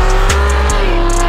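A race car with a thousand-horsepower engine accelerating in a movie scene, a loud, close, continuous engine roar with a steady droning pitch and brief bursts, with no talking.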